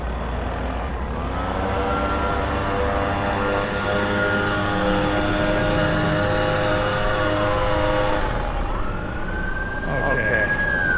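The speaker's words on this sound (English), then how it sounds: "with the blower at full throttle" A blower engine running at full throttle gives a loud, steady, droning whine that holds nearly level for about ten seconds, then rises in pitch near the end.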